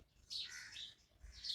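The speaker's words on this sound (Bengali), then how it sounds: "কীভাবে পাখি ডাকছে দেখো" Birds chirp and call from a neem tree at dawn, a few bright high twittering phrases at moderate distance with no voices.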